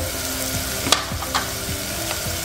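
Green beans sizzle steadily in a hot frying pan with ginger-garlic paste, a continuous close frying hiss broken by a few brief stirring scrapes and clicks.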